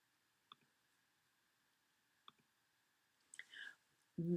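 A computer mouse gives a few quiet, separate clicks spaced over several seconds in a quiet room, followed by a brief rustle and a louder thump at the end.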